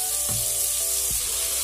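Ham frying with onion in oil in a pan, a continuous near sizzle with a couple of low thuds of ingredients dropped or stirred, no talking.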